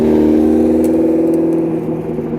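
Lotus Esprit at an outdoor 80s and 90s car show, its engine giving a loud, steady, close idle rumble with a faint hiss above it.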